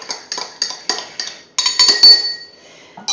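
A spoon clinks rhythmically against a glass while stirring, about six evenly spaced taps followed by a brighter cluster of ringing clinks, close and clear with no talk.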